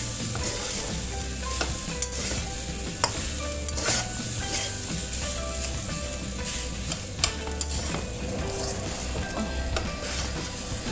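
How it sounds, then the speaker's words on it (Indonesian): Butter fried rice being stirred and fried in a pan gives a steady, close sizzle, with scattered clinks and scrapes of the utensil against the pan throughout. "Lalu aduk-aduk kembali."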